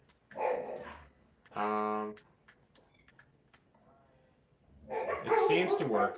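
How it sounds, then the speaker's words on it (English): Dogs barking indoors, two bursts of loud barking a second apart, then a longer, busier stretch of barks near the end, with someone talking quietly in between. "sorry about the dogs barking."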